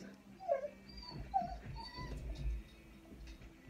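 A dog whines and yelps in short high bursts, a few separate cries spread across a quiet indoor room, with no talking.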